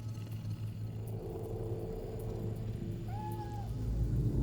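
A cat meows twice in a short rising-falling call in the game Cyberpunk 2077, faint and mid-distance over a steady low city rumble and hum.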